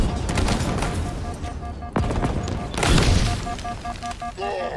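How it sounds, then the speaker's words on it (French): Gunfire rattles in bursts during a Halo Infinite firefight, then a grenade is thrown and a loud explosion booms near the middle, followed by more shooting and electronic game tones at the end. "Je lance un grenade."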